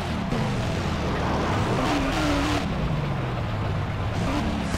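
Monster truck engine roaring at a Monster Jam arena event, a steady loud rumble with rising and falling revs over continuous crowd-filled noise.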